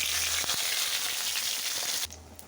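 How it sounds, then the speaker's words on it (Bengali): Whole spices such as panch phoron, cumin, dried red chilli and bay leaf hit hot mustard oil in a wok, giving a loud steady sizzle that drops away sharply near the end. "কড়াইতে সব মশলাগুলো দিয়ে দেব।"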